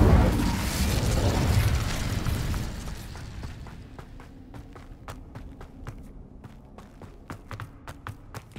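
An Incendio fire spell cast in Hogwarts Legacy bursts out as a loud whooshing blast, then trails off into a softer crackle and a series of sharp clicks and taps.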